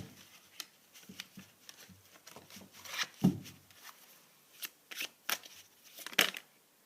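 Tarot cards are shuffled by hand in a quiet room: soft, irregular riffles and slaps come in short bursts, close and alone, with no voice.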